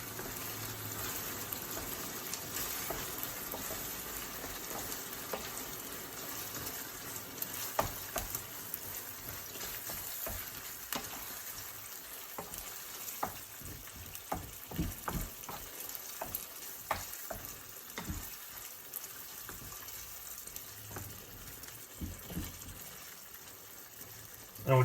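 Lasagna sauce ingredients simmering and being stirred in a pot, a soft continuous bubbling sizzle broken by scattered spoon scrapes and clicks against the pot.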